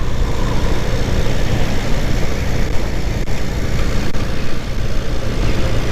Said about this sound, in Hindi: ट्रैक्टर है भाई, ट्रैक्टर है।